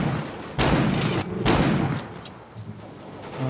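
Revolver gunshots in the game CS:GO, two loud sharp blasts about a second apart with ringing tails, followed by fainter scattered shots and game noise.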